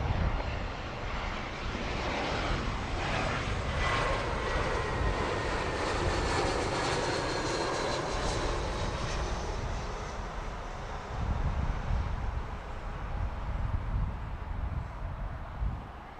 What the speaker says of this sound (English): So there we just had BA coming in from Newcastle.